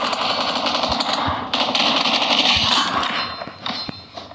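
Rapid gunfire from a video game, dense bursts of shots running continuously over a steady noisy background, loud and close throughout.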